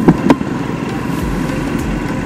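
A Royal Enfield motorcycle running on a ride, a steady engine drone heard from the bike, with a couple of brief knocks at the start and wind rumble underneath.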